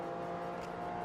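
A race car accelerating flat out in fourth gear around the Interlagos circuit, heard as a steady, loud, close engine drone with strong even harmonics throughout the short moment.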